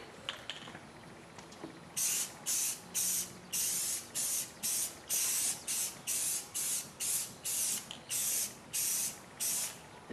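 Spray paint being laid on a wheel or hubcap as a heavy final coat, heard as a steady series of about a dozen short, close hissing bursts with brief pauses between them, no talking.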